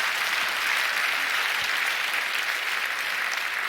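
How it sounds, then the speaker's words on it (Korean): Congregation clapping together at a church worship service, a dense and steady wash of applause that holds evenly throughout at moderate volume. "하나님 앞에 박수 올리겠습니다."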